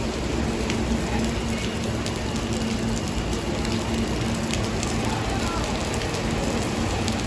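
Heavy rain pours steadily during Hurricane Elsa on a Friday night in Manhattan, New York City, a dense, constant hiss of downpour on surfaces with a low rumble beneath, no voices.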